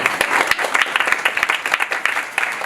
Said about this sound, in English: yes, I would clap for that